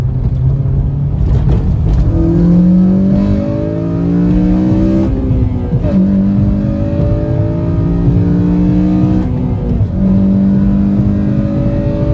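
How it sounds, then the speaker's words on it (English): A Honda Civic Si FA5 with an aftermarket intake revs hard under acceleration, its engine note climbing steadily through VTEC, dropping at each shift and rising again, loud and close from inside the car. "see if we can get a little VTEC pull."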